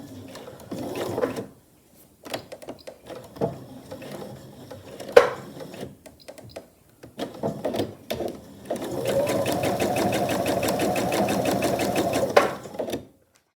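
A domestic sewing machine fitted with a regular presser foot stitches a reversible tote bag, running in short bursts early on and then in one long steady buzzing run toward the end, close up with no talking.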